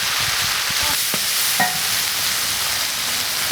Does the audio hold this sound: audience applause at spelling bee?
no